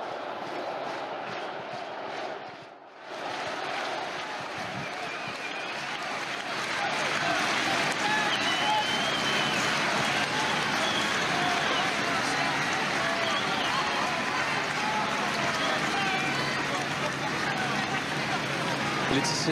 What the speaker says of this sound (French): Écoutez cette foule qui scande le nom de Johnny alors que le cortège arrive sur la place